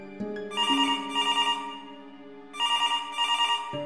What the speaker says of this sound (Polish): Dźwięk telefonu stacjonarnego odbił się echem po całym pomieszczeniu.